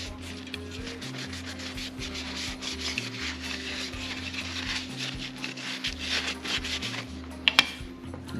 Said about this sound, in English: Clean it up. Get sawdust off of there.